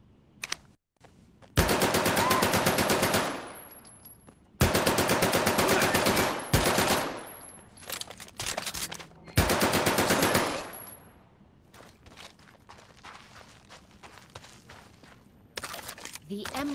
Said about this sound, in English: the MP-40 doesn't go wild like other automatic weapons do when firing the entire magazine at once